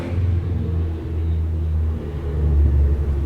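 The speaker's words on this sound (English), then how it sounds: "a souped up little car and just revs it all the way down" A souped-up little car's engine rumbles low and steady as it revs down the street, its revving swelling slightly toward the end, close by with no voices.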